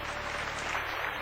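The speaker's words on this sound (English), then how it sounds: "we'd like to welcome our jury with a warm round of applause to the show today" A studio audience at a game show breaks into a warm round of applause to welcome the jury, with dense, steady clapping filling the whole moment at moderate volume.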